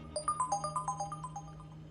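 A mobile phone ringtone plays a bright, melodic electronic tune of quick repeating notes, clear and close, with no voices over it.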